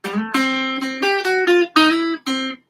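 Electric guitar riff in its original, untransposed position, a run of clear sustained notes in a short melodic phrase with brief gaps between them, played alone and up close.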